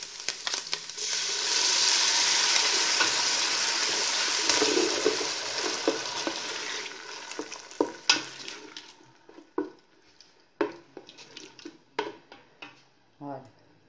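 Sauce poured into a hot pan of instant spaghetti with fresh chilli gives a loud, steady sizzle for several seconds, then fades into scattered stirring clinks and scrapes with a few quiet spoken words.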